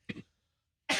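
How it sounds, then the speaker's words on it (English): A short cough with two quick bursts, then silence, followed by another loud, harsh burst of noise at the end, close to the mic. "I'd rather just hear you cough."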